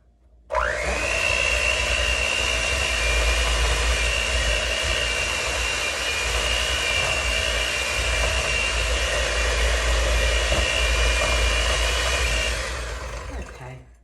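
An electric mixer blends peanut butter cookie dough with sugar, butter and an egg: a loud steady whirring drone that starts abruptly, runs nearly unchanged for about twelve seconds, then winds down.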